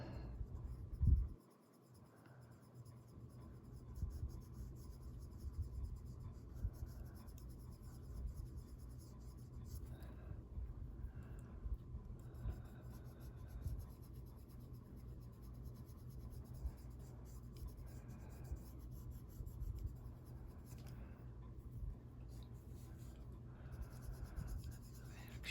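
Colored pencil rubbing and scratching steadily across a coloring page, soft and close, with continuous strokes and small pauses after an initial bump.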